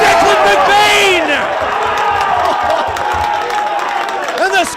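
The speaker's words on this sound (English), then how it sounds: "And the Scoresby crowd go off." The Scoresby home crowd at an Australian football match roars and cheers after a goal. The sustained, loud cheering and shouting stays close and fills the whole moment.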